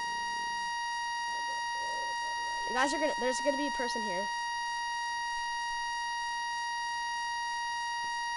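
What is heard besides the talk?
loud electronic beep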